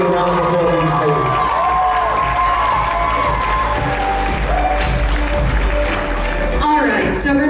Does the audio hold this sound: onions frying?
no